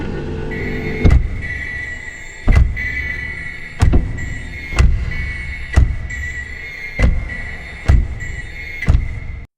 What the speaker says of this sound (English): let's take a look at what I was able to create with Cactuzz Sound vehicle noises